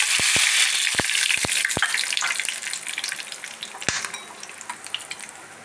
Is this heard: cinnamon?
yes